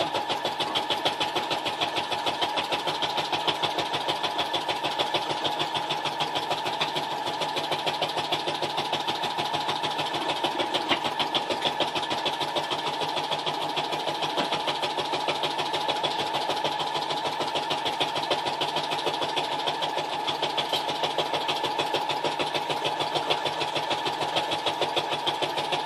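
A sewing machine runs nonstop while back stitching, with a fast, even mechanical whir and rapid needle ticking held at a steady close level throughout.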